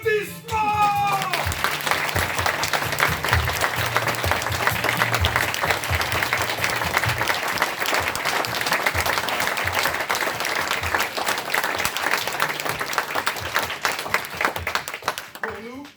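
Audience applause at an amateur theatre performance, a long continuous burst of many hands clapping that stays steady and full for the whole stretch before dropping off abruptly at the end.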